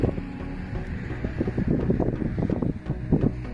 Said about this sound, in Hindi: मौसम बहुत ठंडा है, हवा चल रही है